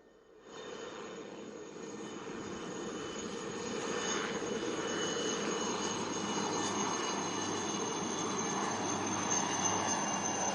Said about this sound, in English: Chetaks are a single-engine light utility helicopter manufactured in India by Hindustan